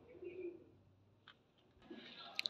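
A pet pigeon, a female, gives a soft, faint coo close by in a quiet setting, followed by a few small chirps and light handling noises.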